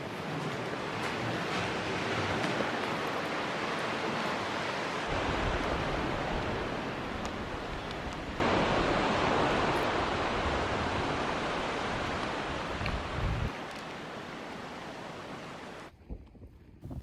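Sea waves wash continuously onto a beach with caves and layered rock, a broad roaring surf with wind buffeting the microphone, and a sudden louder surge partway through before it quiets near the end.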